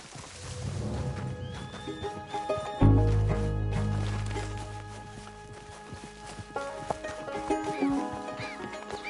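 Horse in the Red Dead Redemption 2 video game, heard amid a dense game soundscape with a loud low rumble midway and scattered tonal cues; a whinny and hoof sounds sit in the mix rather than standing out cleanly.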